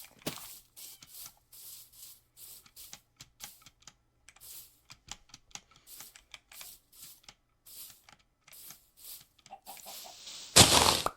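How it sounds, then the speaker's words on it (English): A chicken clucks in a video game, with short clucks scattered among steady keyboard and mouse clicks, ending in a loud brief burst. "Chicken."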